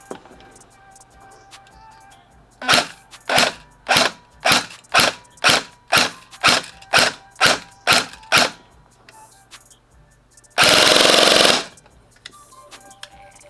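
An EMG Daniel Defense M4A1 electric airsoft rifle, run on an 11.1 V LiPo battery with 0.20 g BBs, fires about a dozen sharp evenly spaced semi-auto shots, then a short full-auto burst of about a second.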